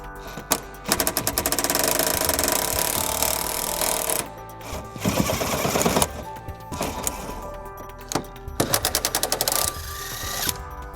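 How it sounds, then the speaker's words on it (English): An impact gun or ratchet on an 18mm socket backs out bolts from the driver's side frame rail of a 2001 Jeep Grand Cherokee, giving loud, close bursts of rapid hammering with short pauses between them. "We'll be using an 18mm socket to remove those."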